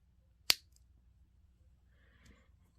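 One sharp, close snip as jewelry wire is cut while shaping a wire-wrapped pendant bail, followed by near silence and faint handling noise.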